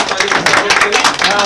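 Applause at a New Year stage program, a steady wash of clapping throughout the short stretch with a voice talking over it.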